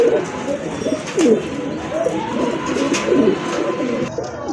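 A pair of Modena pigeons coo in low, throaty bursts several times, close and fairly loud, with a steady background hum.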